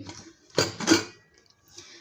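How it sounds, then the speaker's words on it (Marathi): Two quick metallic clanks as a pressure cooker lid is opened over cooked masoor lentils, then a faint scrape, in a quiet room. "आता मी कुकर खोलून घेते"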